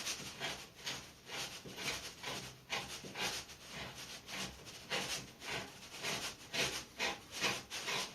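Steady rhythmic rasping of a blade sawing back and forth through bathroom drywall along a marked line, close and fairly loud, about two strokes per second with no talking.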